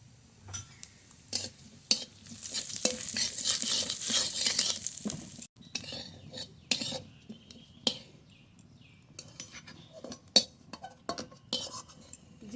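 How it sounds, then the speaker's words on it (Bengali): Whole cumin seeds fry in a little oil in a home kitchen pan, giving a loud hissing sizzle for a few seconds before it dies away, with sharp clinks of a metal utensil and pan scattered throughout. "অল্প তেল দিয়ে কটা জিরে ভেজে তুলে নেব"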